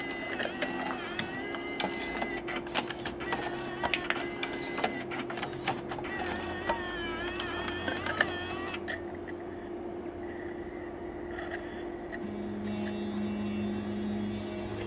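The mechanism of a Panasonic 6-CD car stereo changer whirs and clicks for about fifteen seconds, with a run of rapid ticking and motor whine, then a lower steady hum.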